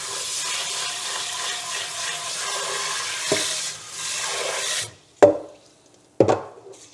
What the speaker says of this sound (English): Gotta wash your rice.